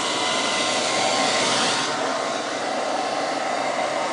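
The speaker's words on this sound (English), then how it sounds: "let's do the hairdryer on low with no heat" A hair dryer on low with no heat, drawing about 300 watts from a Blackfire 546Wh portable power station, blowing steadily up close, a constant airy whoosh with a slight shift in tone partway through, no voices.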